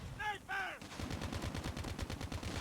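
Rapid automatic gunfire crackles in Call of Duty Mobile, dense repeated bursts following a short two-note tonal chime at the start, loud and continuous.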